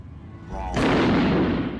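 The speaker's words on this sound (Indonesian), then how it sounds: "Karena si Terminator nggak punya uang, dia pun menembak si pemilik toko dengan shotgun" A shotgun blast in the Terminator film goes off as one loud, sharp burst that booms and decays over a second, preceded by a brief low voice.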